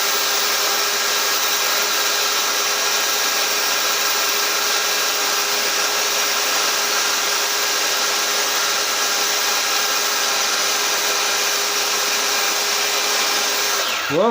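A power carving tool shaves wood while an owl is being shaped, giving a steady high-pitched motor whine with a gritty buzzing texture that holds constant for a long stretch before stopping at the end.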